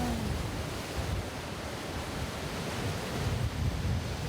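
Winter sea waves washing against a rocky island shore, a dense broadband roar with steady surf wash and wind buffeting the microphone, continuous and fairly loud, with no voices.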